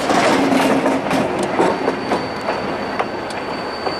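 NYS&W locomotive 2514 moving along former West Shore tracks toward New York Mills, with continuous clattering rail noise and faint wheel squeal, fairly close and steady.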